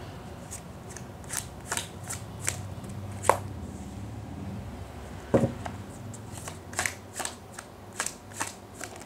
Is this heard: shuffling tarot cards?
yes